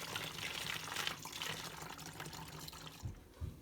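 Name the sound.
pouring homemade laundry soap liquid through a funnel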